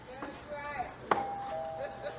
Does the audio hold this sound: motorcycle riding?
no